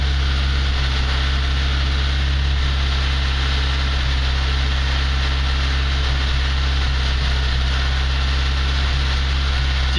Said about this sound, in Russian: Дайте немножечко поработать двигателю.